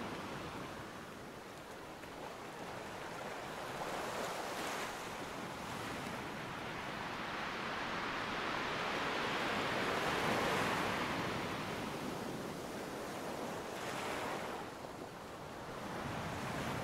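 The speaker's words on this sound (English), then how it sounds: "Turning your focus to the sounds of the waves." Ocean waves surge and wash in a continuous broad roar, swelling and easing slowly with a breezy hiss, steady and without voices.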